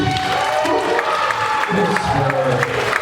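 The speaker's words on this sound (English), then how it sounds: "Round of applause, everyone!" Crowd applause and cheering at a luau, a continuous wash of clapping with shouts and voices mixed in throughout.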